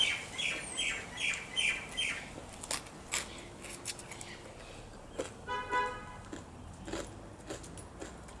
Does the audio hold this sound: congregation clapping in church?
no